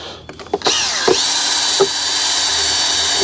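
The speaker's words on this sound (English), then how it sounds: "we will make sure we do the obligatory drill test" After a few clicks, a power drill fitted with a paint stirrer whirs up to a loud, steady high-pitched whine and holds it, close by.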